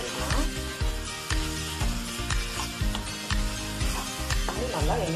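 Fried chicken pieces being stirred into a sizzling gravy for spicy chicken noodles, with a rhythmic series of loud scraping stirs over a steady frying hiss, close and continuous, with no talking.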